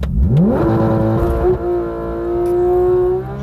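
A Porsche 911 GT3 RS in PDK Sport mode launches hard, its engine rising sharply through the revs, shifting, then pulling high and loud close by.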